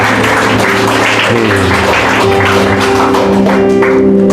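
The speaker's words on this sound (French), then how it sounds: "Acclame le Seigneur Jésus pour ce qu'il était." A church congregation at a worship service claps and cheers loudly and continuously, with dense overlapping hand claps under sustained voices and a steady tonal backing.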